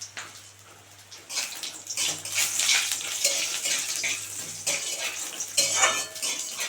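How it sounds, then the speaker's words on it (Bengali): Pea lentil dumplings fry in oil in a pan, a close, bright crackling sizzle that swells and eases in uneven bursts, with occasional soft clinks of a utensil against the pan. "এবার বড়িটা খুব সুন্দর করে ভেজে নেব।"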